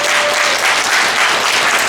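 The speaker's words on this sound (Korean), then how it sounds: "여러분 뜨거운 박수로 맞이해 주십시오." Warm, loud applause welcoming the founding chairwoman at the opening ceremony of a Yun Dong-ju literary and arts festival: a dense, continuous wash of many hands clapping close and steady for the whole moment.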